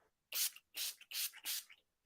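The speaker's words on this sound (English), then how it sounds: "the very last thing when you are doing things like this is always going to be your finishing spray" Four quick bursts of finishing spray hiss from an aerosol can in a close, even rhythm, each puff short and bright with brief silences between.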